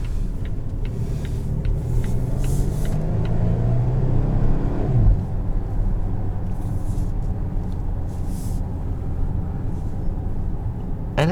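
A 2022 Volvo XC90 T6 Momentum SUV on the move, with a steady low engine and road rumble that swells briefly as it accelerates, heard from inside the cabin with no talking.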